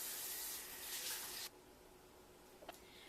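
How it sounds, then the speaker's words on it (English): Rhubarb stalks are rinsed under a running tap, a soft steady hiss of water that stops abruptly partway through, followed by a faint drip or clink. "and I will wash them first."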